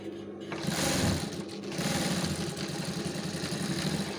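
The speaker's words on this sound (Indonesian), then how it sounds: "Kunci dulu itu ya agar tidak lepas ya" A sewing machine stitches a trouser pocket, starting with a short burst and then running in a steady, close, buzzing whir to the end, with no talk.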